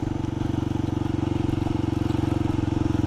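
A 2024 Kawasaki KLX300 dirt bike engine runs steadily with a low, pulsing thrum, held at a constant throttle for about three seconds, close by, with no talk over it.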